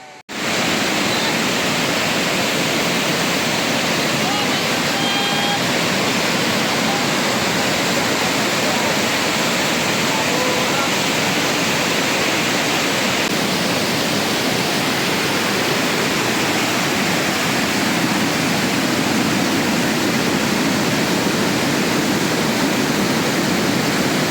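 Ruposhi waterfall on the Kamaldaha Trail roars in a steady, dense rush of falling water, loud and close, holding constant throughout with no pauses.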